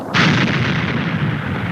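A sudden deep boom erupts and rolls on as a sustained, loud rumbling roar, heavy and continuous without easing.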